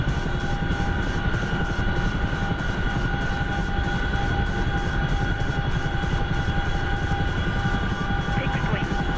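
A video game helicopter drones steadily in the cockpit, with a dense low rotor chop and a constant engine whine, loud and continuous throughout.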